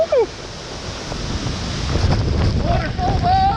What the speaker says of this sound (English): I'm gonna try to get as close as possible to this waterfall.